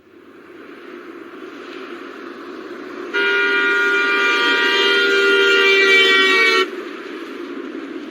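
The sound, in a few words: police car siren moving past, Doppler effect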